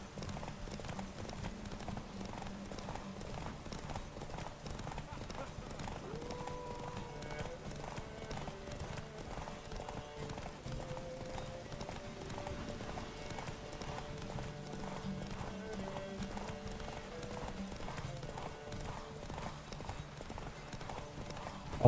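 In Witcher 3, the horse Roach gallops through a race with rapid, rhythmic hoofbeats that continue steadily for the full length, while game music and faint tones play underneath.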